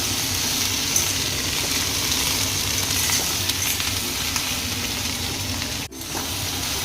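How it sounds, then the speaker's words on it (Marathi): Sliced okra (bhindi) frying in hot oil in a pan gives a steady, close sizzle with faint crackles, broken by one brief scrape or stir near the end. "आता ही चांगली गरम मस्त तेलामध्ये फ्राय करून घ्यायची आहे"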